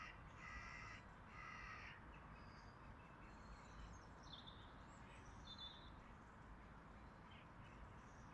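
A crow caws several times on a Swansea morning, harsh calls coming in quick groups, fairly distant over a soft outdoor background hiss.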